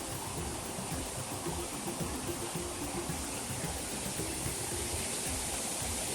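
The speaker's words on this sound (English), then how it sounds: "Kind of misty down here from the waterfall itself." Hemlock Falls, a waterfall in Cloudland Canyon State Park, roars as a steady, dense wash of rushing water, heard from close by with no voices.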